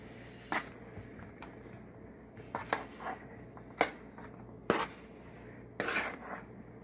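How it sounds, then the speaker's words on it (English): Cut apple pieces dropped into a pie pan, a few separate soft thuds and clatters spaced irregularly, quiet and close with a faint hum underneath. "And then we will put our mixed apples cuts into the pan."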